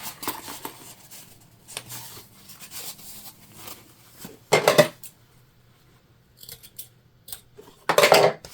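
Scissors snip fabric to mark side seams on a sewn lunch bag, two sharp, close cutting bursts separated by quieter handling noise.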